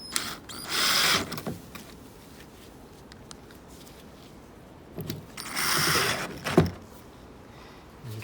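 Screws being driven back into the plastic housing of a 2015 Toyota Auris rear light cluster with a power driver, two short whirring bursts with faint clicks and handling noises between them, close and without talk.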